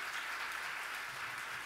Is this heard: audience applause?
yes